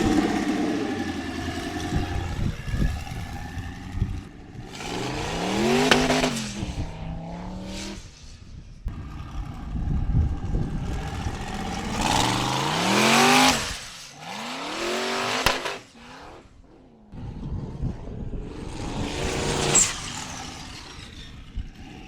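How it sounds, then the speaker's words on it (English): A two-wheel-drive sand rail with a twin-turbo LS engine of 652 horsepower revs hard on the Moses Lake sand dunes, rising and falling in repeated loud, close bursts with gaps of idle between. "So we got twin turbo LS engine in this thing."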